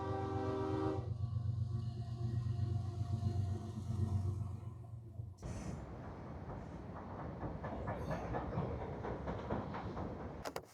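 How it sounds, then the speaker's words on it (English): A train passes near the Hudson River, its horn sounding loudly for several seconds before it cuts off, then the steady rumble and clatter of railcars rolling by continues close and prominent until the end. "A train. You guys want to see a train?"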